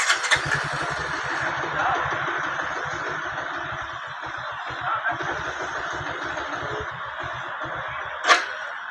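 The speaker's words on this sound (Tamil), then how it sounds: "வண்டியை ஸ்டார்ட் பண்ணால் ஐட்லிங் ஆடுது" A Bajaj Pulser 150 BS4 motorcycle with an idling fault runs at an uneven, low, pulsing idle close by, ending with a sharp knock near the end.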